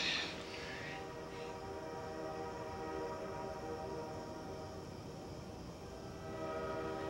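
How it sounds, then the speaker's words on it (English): A train rumbles steadily at moderate distance, its tonal hum sustained throughout, with a brief higher whine near the start. "Listen to the sound of the train. Sounds like it's getting close."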